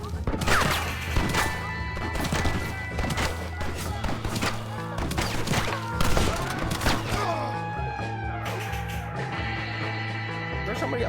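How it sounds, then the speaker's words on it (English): Gunfire in Red Dead Redemption: a dense run of sharp, loud shots and thuds in rapid bursts, some clustered together, with other game noise between them and no talk. "Somebody else up high shooting at me."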